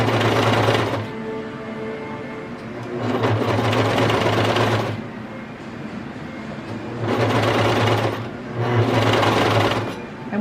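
A sewing machine stitches a hem on a kids' raglan T-shirt in knit fabric, running in four loud, steady bursts of about two seconds each with short pauses between them.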